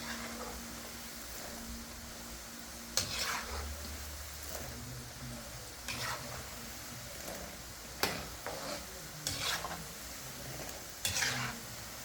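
Chin chin dough frying in hot oil gives a steady soft sizzle, broken by occasional scraping stirs and clinks of a utensil against the pot.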